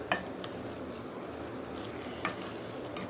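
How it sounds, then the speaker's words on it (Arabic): Minced meat frying and being stirred in a pan, a steady close sizzle with a few light scraping stir strokes scattered through it. "نبتدي نقلب"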